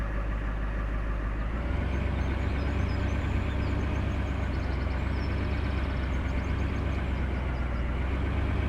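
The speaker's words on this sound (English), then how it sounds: "this truck sounds way beefier than the last one" Pickup truck engine in Farming Simulator 17 video game, a deep, beefy idle rumbling steadily and loudly throughout, with no talking.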